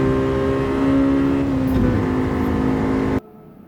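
Honda Civic SiR engine held on the rev limiter in Gran Turismo 7 at Tsukuba Circuit, a loud, steady high-pitched buzz that holds for about three seconds, then cuts off abruptly into near silence.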